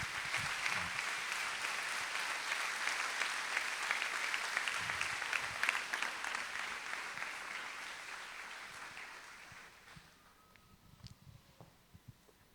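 Congregation applauding during a church service, a dense, sustained wash of clapping that fades toward the end, leaving a few scattered claps in a quieter room.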